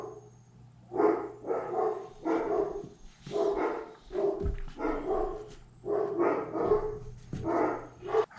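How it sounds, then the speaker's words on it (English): Several dogs bark excitedly at the mailman indoors, repeated bursts of loud barks in an uneven rhythm with a few yips and whimpers, close by and without talk. "The mailman showed up and the dogs decided to go crazy."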